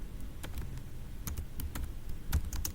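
Fingers type a command on a computer keyboard in an irregular rhythm of separate close key clicks over steady background hiss, no talking.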